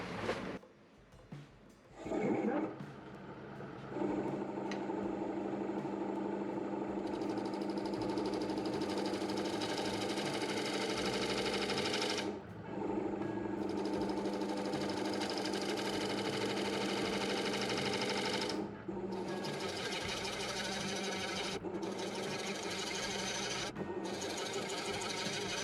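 A wood lathe turning a maple burl bowl, its motor droning in a steady mechanical whir with gouge cuts rising and dropping, stopping in brief gaps before resuming.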